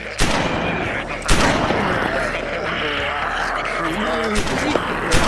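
Gunshots fired at a zombie ring out as sharp, loud cracks, one near the start and more spread through the scene over a bed of noisy ambience.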